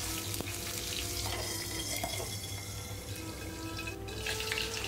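Potato pieces frying in a pan for a vegetable tawa fry, a steady broadband hiss and sizzle that fills the clip with no speech over it.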